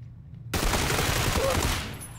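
Video game gunfire breaks out suddenly as a dense, rapid burst of shots lasting over a second, loud and close, after a quiet start.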